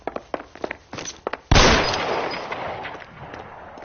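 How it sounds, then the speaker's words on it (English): Gunfire in L.A. Noire, a string of quick sharp pops followed by one loud, close blast that rings out and decays slowly into a fading reverberant tail. "Shoot him, for God's sake."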